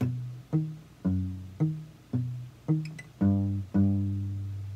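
Steady Travis-picked acoustic guitar playing a song, alternating bass notes in a regular rhythm with treble notes on top, played close and alone, ending on a ringing chord.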